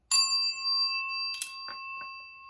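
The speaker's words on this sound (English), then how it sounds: "Let me ring the bell." A single bright bell strike rings out and sustains with a long, clear tone, followed by a few soft taps and rustles while the ring lingers.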